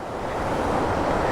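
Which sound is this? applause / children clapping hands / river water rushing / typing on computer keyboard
river water rushing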